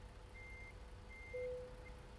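A truck backing up in American Truck Simulator sounds a few thin, evenly spaced reversing beeps over a low engine rumble, fairly faint and steady with no talking.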